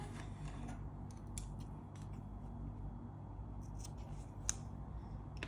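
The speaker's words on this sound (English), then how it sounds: "I can now cut this tail off." Scissors snip through a crochet yarn tail, a few faint, quiet cuts with light clicks over low steady background hum, no voices.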